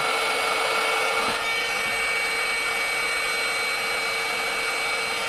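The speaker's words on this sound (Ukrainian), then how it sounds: "Ось я підключив фен дружини. Вмикаємо і все." A steady, loud blowing whir of a hair dryer drawing about 564 W from a Zendure SuperBase 600M power station runs without a break, with a brief dip near the start and no voices.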